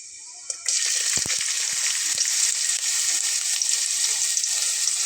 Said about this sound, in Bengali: জিরাটা একটু ভাজা হলে তার ভেতরে আমি এখানে পেঁয়াজ কুচি করে নেওয়াটা দিয়ে নেব